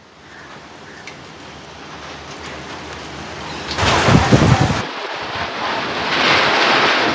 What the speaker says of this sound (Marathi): वादळी वाऱ्यासह जोरदार पाऊस बरसतो आहे